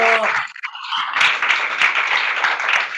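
A church audience of seminary students breaks into sustained applause after a prayer, a dense, loud crackle of many hands clapping steadily for a few seconds.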